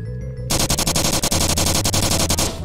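Loud, rapid automatic fire in a VR shooter game on Valve Index. A quieter lead-in gives way to a fast, evenly spaced burst that runs for about two seconds and then cuts off.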